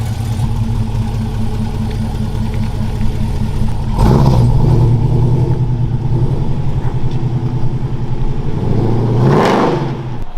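A supercharged Pontiac Trans Am, built as a sleeper, runs steadily nearby with a deep, continuous engine rumble that swells into two revs, one around the middle and a sharper one near the end.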